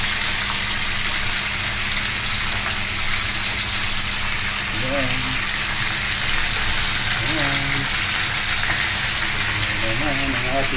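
Hot oil sizzles steadily in a pan as milkfish fries, a continuous crackling hiss heard up close, with a few faint background tones.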